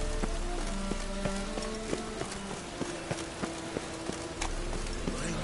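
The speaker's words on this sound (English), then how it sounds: "It's raining again." Rain patters in a PS4 video game amid scattered sharp taps and clip-clop-like footfalls, with faint tonal game sounds running underneath and no one speaking.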